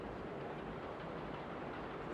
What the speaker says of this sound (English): Can you guys hear the train?